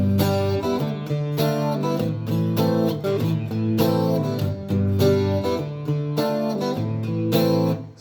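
Bright, clear open guitar chords play the verse of a song, strummed in steady rhythmic bursts over a full, loud mix with no talking.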